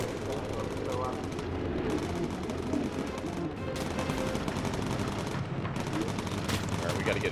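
Gunners on a bomber in the Bomber Crew game fire steadily in a dense, continuous rattle, with engine drone and a voice talking over it.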